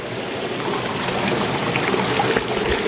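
Steady, continuous rush of a waterfall stream in a forest, filling the scene evenly for the whole stretch with no voices.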